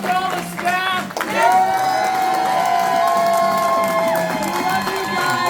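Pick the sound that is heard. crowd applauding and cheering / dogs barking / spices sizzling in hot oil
crowd applauding and cheering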